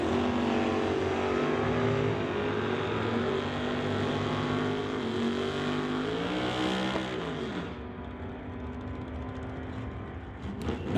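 Two drag racing cars, a 1971 Chevy and a 1970 Chevelle, roar down the strip at a raceway, engines screaming at full throttle with a rising pitch before the sound drops away.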